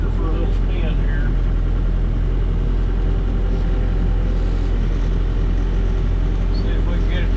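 A Volvo backhoe's diesel engine rumbles loud and close as the machine pulls off, a steady low drone with mechanical clatter that holds throughout.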